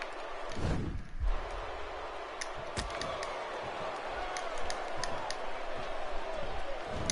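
Arena crowd roaring and cheering at a WWE 2K16 wrestling match, a broad steady wall of noise with scattered sharp slaps and thuds, an announcer's voice talking over it.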